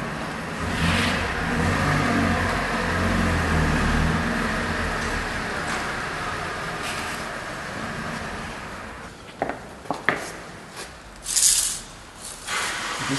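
Small car creeping into a parking space beside a pillar in a Kassel parking garage, its engine humming steadily, then easing off as the car settles, with a few short knocks and clicks near the end.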